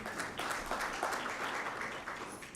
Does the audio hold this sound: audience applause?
yes